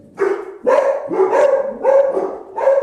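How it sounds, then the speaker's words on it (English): A dog barks nearby in five loud, evenly spaced barks, each a short harsh burst, heard alone without talk. "And the dogs bark."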